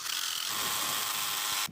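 A power drill whirs into a steel profile pipe in a short, steady burst, the bit grinding with a rough, rasping tone before cutting off.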